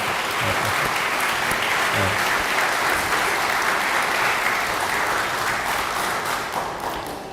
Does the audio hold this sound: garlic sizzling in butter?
no